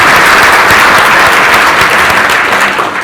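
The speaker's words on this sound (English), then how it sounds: "If we can get a round of applause for that" A packed, standing-room-only crowd at a business model contest gives a loud, dense round of applause, sustained and even before tapering slightly at the end.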